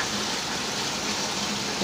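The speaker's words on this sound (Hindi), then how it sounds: "पानी डालेंगे" Water poured into a pan of frying tomatoes while cooking a mangur fish curry, a steady close rushing gush that fills the whole short stretch without a break.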